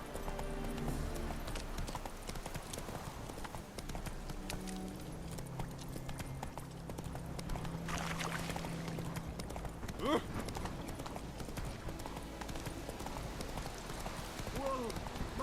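Horse hooves clip-clop steadily in the Witcher 3 video game, a continuous rhythmic trot or gallop under game music and ambience, with a brief whinny and a voice calling out near the end.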